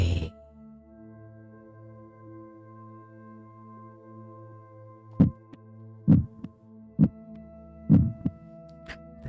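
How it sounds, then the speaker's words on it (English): A heartbeat sound effect for a guided meditation, with soft, deep, slow thumps over a sustained low drone. The beats come in irregular clusters in the later half. "This is the heartbeat of your ancestors."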